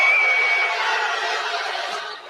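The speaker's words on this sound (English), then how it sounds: "You hear the crowd react" Large basketball arena crowd at a WNBA game reacting loudly to a technical foul on Caitlin Clark, a dense sustained roar of many voices that slowly eases off.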